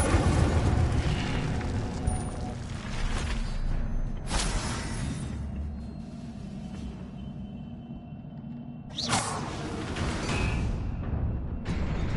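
The Incendio fire spell is cast in a Harry Potter video game set in Hogsmeade, with loud fiery bursts that whoosh and roar, then die away, and two more sharp blasts striking a few seconds apart.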